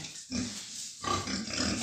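Piglets grunting in a pen on a farm, a steady low rough grunting over almost two seconds with a brief pause near the start, close and fairly loud.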